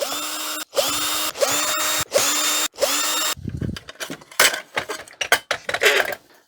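A power drill backs screws out of a 1991 HP LaserJet 3P printer in four short whining runs with brief gaps between them, followed by a clatter of loose screws and parts being handled.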